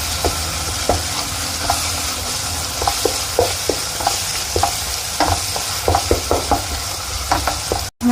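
Turmeric and red chili powder frying in a pan for tinda achari dal, a steady sizzle under repeated scraping and stirring taps from a spoon, close and fairly loud.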